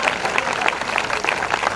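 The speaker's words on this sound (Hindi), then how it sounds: "तालियों के साथ धन्यवाद करें।" A congregation at a live morning prayer service claps together in thanks, a dense, steady wash of applause filling the room from start to finish.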